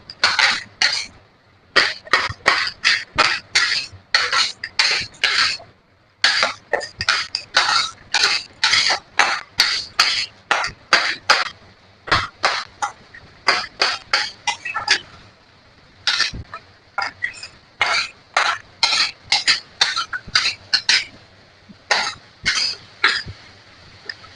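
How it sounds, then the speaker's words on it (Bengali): A spatula scrapes rhythmically through tel koi fish curry being sautéed in oil in a pan, with a long run of sharp, regular strokes that pause briefly now and then. "এবার আরো খানিক্ষণ এটাকে"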